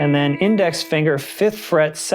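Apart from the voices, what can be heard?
No everyday noise stands out behind the speech.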